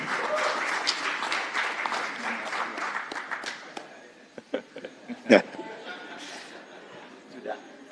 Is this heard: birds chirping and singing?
no